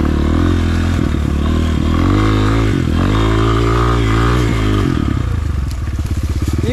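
A Rottor Titan 250 motorcycle engine, about 17 horsepower, roars loudly and close throughout, its pitch rising and dipping with throttle changes, with some rattling and scraping from the ride.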